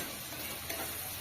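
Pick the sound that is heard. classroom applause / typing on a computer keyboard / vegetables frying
vegetables frying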